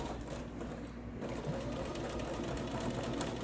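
A sewing machine stitches a quilt block with a steady, close, mechanical whir that runs without a break.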